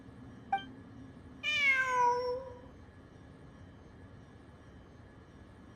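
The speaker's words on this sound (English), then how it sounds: "I'm not hearing things. It really is a cat." In the video game Genshin Impact, a cat gives a single clear, drawn-out meow, loud and close against a quiet background hum, with a faint click just before it.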